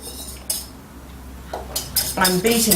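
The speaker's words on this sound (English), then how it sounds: "mix up the egg yolks with the cream, and I'm beating them" A metal whisk beats egg yolks with cream in a bowl for a Mornay cheese sauce, with sparse clinks at first, then quickening rapid clattering strokes against the bowl, close and fairly loud.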